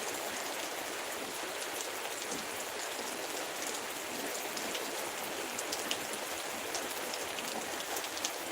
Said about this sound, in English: Yeah, that's how it is when it's raining this side.